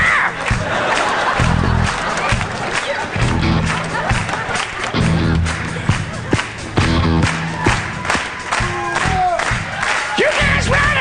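Audience at a comedy show, with comedian and musician Paul Bond on stage, erupts in loud sustained cheering, whooping and shouting that fills the whole stretch, mixed with scattered clapping and some voices.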